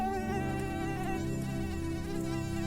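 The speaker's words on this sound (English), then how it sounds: "Stop with the mosquitoes." A dense, continuous whine of buzzing mosquitoes in the video game Harold Halibut, steady and close, laid over a constant background of soft music.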